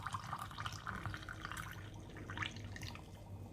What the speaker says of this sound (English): Then you pour it inside the cup.